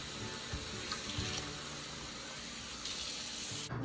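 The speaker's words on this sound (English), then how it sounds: "So fill that puppy with hot water." Hot water runs steadily from a tap to fill a container for thawing chicken, a continuous close gushing and splashing with no talk.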